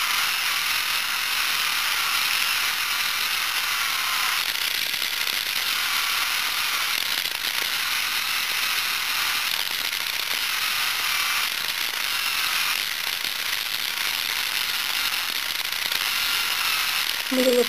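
An electric pedicure file grinds against skin with a steady, high-pitched whirring buzz that stays close and continuous throughout, with faint scraping texture.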